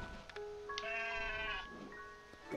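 Sheep bleating in the video game Craftopia: a single drawn-out, wavering bleat over faint background ambience, fairly close and clear, with a softer tail trailing off.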